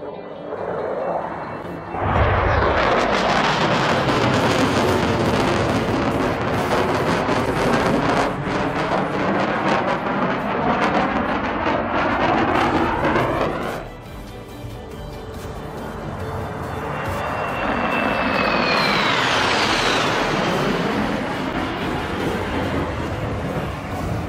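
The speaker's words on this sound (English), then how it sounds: "This air show takes place in Switzerland." Aircraft at an air show in Switzerland: a loud, broad roar of jet engines that swells, cuts off sharply, then builds again with a rising whine as a plane passes overhead.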